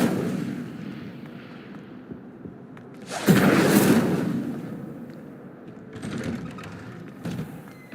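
The Incendio fire spell cast in Hogwarts Legacy, a sudden loud whooshing burst of flame with a booming impact that fades slowly, followed by softer crackling flares, with no talk.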